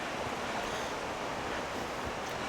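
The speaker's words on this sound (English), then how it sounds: "Got a little bit of noise in the back from this water to the left of me" Water flows steadily nearby, picked up by a Sony ECM-G1 shotgun microphone as a constant broadband rushing hiss, fairly close and even in level, with no talk.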